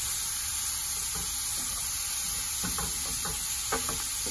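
Seeds sizzle and crackle steadily in a hot pan, a continuous close hiss with a few sharper pops and scraping stirs scattered through.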